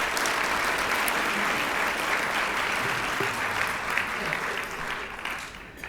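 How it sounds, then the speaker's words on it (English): An audience at a talk on emerging from depression gives a steady round of applause that holds loud and even before tapering slightly. "So let's give them all a round of applause for their support."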